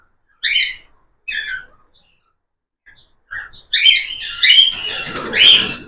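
Paired pet cockatiels chirp in short separate bursts, then break into a denser run of close, loud calls and squawks toward the end, with no other sound around them.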